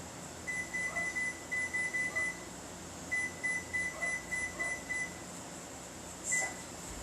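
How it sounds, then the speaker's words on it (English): A kitchen timer beeps in rapid bursts of short, shrill tones, two long runs separated by a pause and then one last beep, clear over quiet room noise. "I'm going to hit my timer."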